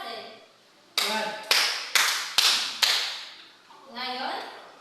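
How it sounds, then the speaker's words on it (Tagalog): A classroom gives a student five sharp rhythmic claps in unison, evenly spaced and loud, with voices talking before and after them. "Bigyan natin ng 5 palakpak si Dazel"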